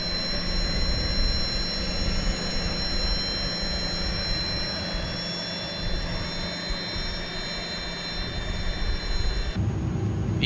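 Jet engines of an iniBuilds A300-600R airliner in Microsoft Flight Simulator drone steadily with a loud, constant whine and sustained tones, then change abruptly near the end, with no talking.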